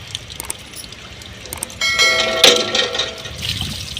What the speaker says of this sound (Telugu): మా అక్క కాలు చేతులు కూడా కడుక్కుంటుంది.